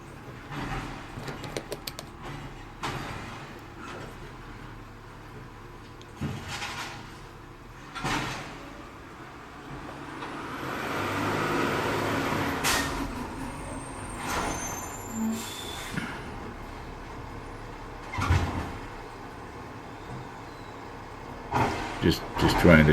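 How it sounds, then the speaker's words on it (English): A garbage truck works outside with hissing air brakes, engine rumble and clanks rising and falling over about twenty seconds, with a voice talking nearby. "You can hear the garbage truck outside."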